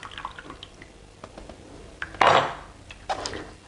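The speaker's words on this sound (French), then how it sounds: "J'égoutte bien pour pas qu'il y ait trop d'eau dans mon assiette après." Warm water is drained off raw zucchini spaghetti, heard as scattered drips and small trickles, then a louder splashing pour near the middle and a couple of clinks, close and fairly quiet.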